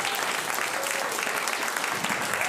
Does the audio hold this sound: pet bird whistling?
no